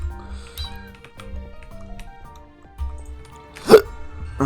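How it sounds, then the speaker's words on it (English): A man hiccups during Minecraft gameplay, one sharp abrupt hiccup standing out loudly against quiet game music and sound effects. "Got the hiccups."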